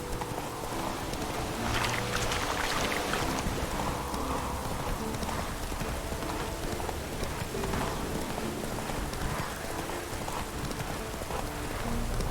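Horse galloping in The Witcher 3 video game, with rapid rhythmic hoofbeats amid a dense, rain-like wash of game ambience throughout.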